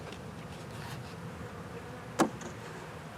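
A low, steady drone of honeybees buzzing at a hive fills the background, broken once by a sharp click partway through; no one speaks.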